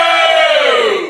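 A live audience at a cigar podcast taping roars and shouts together, a dense, loud crowd cheer that holds steady for about a second before easing slightly at the end.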